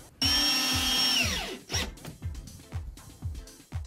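A power drill drives screws through pre-drilled holes to fix a shelf unit to a wardrobe side, one long whirring run winding down, followed by a series of short repeated bursts as the screw is seated, close and clear.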